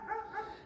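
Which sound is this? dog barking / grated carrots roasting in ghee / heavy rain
dog barking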